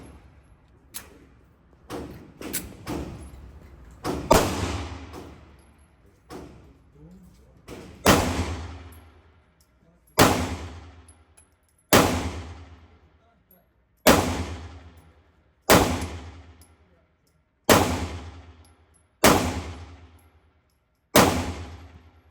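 Colt Defender compact 1911 pistol firing a mag of ammunition, about ten sharp, loud shots at a steady pace of roughly one every two seconds, after earlier irregular clatter and bangs.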